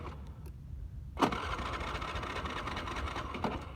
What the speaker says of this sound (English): I hope this motorbike starts